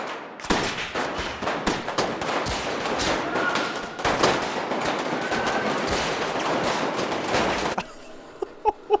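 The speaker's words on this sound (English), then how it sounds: "There's gonna be tons of guns going off." Gunfire rings out in a soldier-filled scene from the 2014 film The Grand Budapest Hotel, with dense bursts of rapid automatic fire and single shots, loud and sustained, ending in a few scattered shots.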